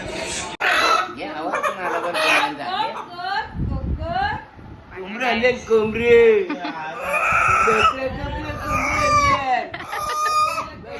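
A rooster crows in a rural yard among chickens and goats, its call rising between stretches of close, lively talk that dominates much of the scene.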